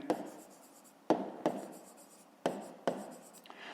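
A pen scratches across paper while a fifth-grade maths exercise is written out by hand. Close, dry strokes come in short bursts with sharp starts and brief pauses between them, and no one speaks.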